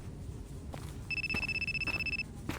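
A telephone ringing in the horror video game Akai Onna: a single electronic ring burst of about a second with rapid trilling pulses, heard clearly over a low ambient hum, then quiet.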